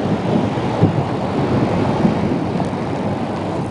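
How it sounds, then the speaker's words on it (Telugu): Heavy rain and a thunderstorm over Anantapur district, India, as a steady, dense roar of downpour with low rumbling running through the whole stretch and no voices. "అనంతపురం జిల్లాలో భారీ వర్షాలు కురుస్తూ ఉన్నాయి."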